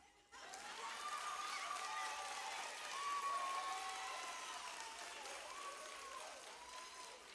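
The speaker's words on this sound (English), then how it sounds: "You should clap." Graduation audience applauds steadily for about seven seconds, a dense wash of clapping with some cheering, while a voice carries on faintly underneath.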